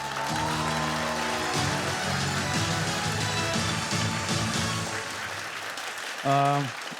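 Audience applause at a star leaders' club presentation, a steady wash of clapping that continues for several seconds, with music and voice-like harmonic tones running underneath and a brief louder tonal burst near the end.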